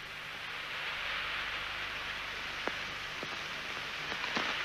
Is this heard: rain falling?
yes